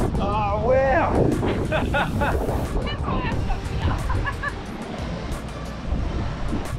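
Heavy sea waves surge and crash through the Gap, a rocky coastal chasm in Western Australia, in a roaring, windy wash while people nearby exclaim and talk over it.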